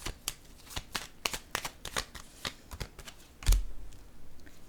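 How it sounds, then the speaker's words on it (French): Cards handled on a table during a tarot-style reading: a run of crisp, quick flicks and slaps of card stock, close and fairly loud, ending in a firmer thud as one card is laid down on another. "Je vais déposer une carte sur elle."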